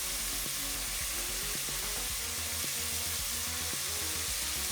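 Chips fry in hot oil with a dense, steady sizzle and crackle. Scattered pops sit over a low hum, and the sound stays continuous and close throughout.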